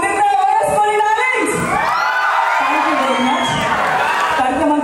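A crowd at a film pre-release event in Khammam cheers loudly, with whoops, shouts and yelling voices blending into a continuous close roar.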